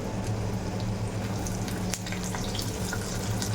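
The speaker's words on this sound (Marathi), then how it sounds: "कढीपत्ता टाकल्यावर आपण ज्या उभ्या उभ्या चिरलेल्या मिरच्या होत्या त्या मिरच्या आपण यामध्ये टाकून घ्यायच्या" Sliced green chilies fry with curry leaves in a pan, making a steady dense sizzle and crackle that stays close and constant throughout, with one brief clink partway through and no voices.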